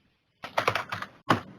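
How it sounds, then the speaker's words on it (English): A short burst of keystrokes on a computer keyboard, several quick close clicks followed by one final tap after a brief pause. "So I'm going to type smartphone,"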